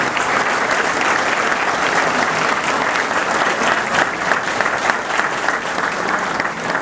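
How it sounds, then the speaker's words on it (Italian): A crowd at an awards ceremony applauds warmly, sustained dense clapping at a constant loud level for several seconds, with a faint murmur of voices underneath. "Noi facciamo un applauso a tutta la famiglia del Villanova."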